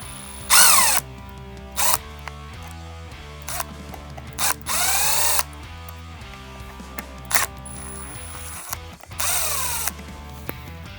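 A power drill removes the screws holding an office chair's arm pad, sounding in about six short, loud whirring bursts with brief pauses between them, alone with no talking.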